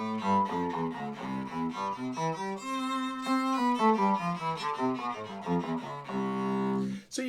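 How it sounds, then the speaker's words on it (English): Electric violin run through a Digitech-style octave-down pitch shifter, giving a lower, somewhat mechanical cello-like doubling beneath a steady stream of bowed notes, played alone and up close. "So you can hear that you get that octave down."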